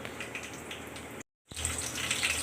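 Rice being rinsed under a running kitchen tap, with a steady close rush of water that briefly cuts out for a moment and then returns louder.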